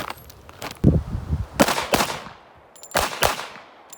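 A .45 ACP pistol fired at a shooting range: four sharp, loud reports in two quick pairs, preceded by a duller thump, with no talking.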